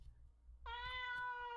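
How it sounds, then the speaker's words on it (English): A cat in the RPG Maker horror game Ib gives one drawn-out, tonal meow that starts suddenly after a low rumbling background and holds steady, quiet and alone. "I have a cat in here, like a real cat."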